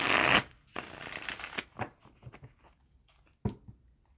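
Regular playing cards being shuffled close up, with a long burst of riffling, then softer slides and taps, and one more sharp riffle near the end.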